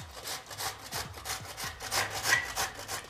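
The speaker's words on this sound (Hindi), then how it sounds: "तो देखो वो मैं कद्दूकस कर ली हूँ बढ़िया घिसन" Bottle gourd (lauki) rubbed by hand over a metal grater in a home kitchen, a rhythmic series of raspy scraping strokes, roughly two per second, close and fairly quiet with no talk.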